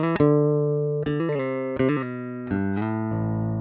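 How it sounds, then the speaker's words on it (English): Bass guitar notes played in short phrases through a DSM Humboldt Simplifier Bass Station with its cab simulator engaged, a clean, warm tone with a slightly boxy, speaker-like character; several plucked notes sustain and change pitch, no voices. "that's because the cab section has now been engaged"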